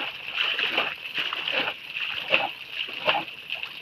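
Dirty water sloshing and splashing out of clothes during hand washing at a village washing spot, pushed out by foot, a steady wet churning with a few brief louder splashes close by.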